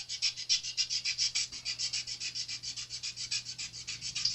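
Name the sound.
sanding burrs off guitar fret ends with fine sandpaper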